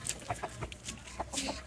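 Chickens being let out of their coop, soft irregular clucks and short calls from several hens close by, with no talking.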